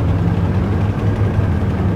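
A steady low tank engine rumble from a video game drones on without a break, heavy and close, like a large vehicle idling.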